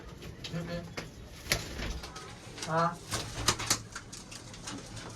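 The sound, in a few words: domestic pigeons cooing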